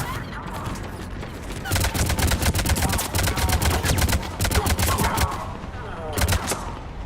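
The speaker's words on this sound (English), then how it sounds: "Commander, we're getting a lot of mortar fire." Dense bursts of rapid gunfire and mortar fire in the video game Mass Effect 3, rattling continuously through most of the stretch after a quieter opening, loud and close, with a brief pause and renewed volleys near the end.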